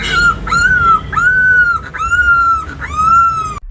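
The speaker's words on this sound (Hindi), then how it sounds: "कुत्ते के पिल्ले की आवाज़ कहाँ से आ रही है?" A puppy whimpers in a run of about five high, drawn-out whines with short gaps between them, close and fairly loud, with no one talking.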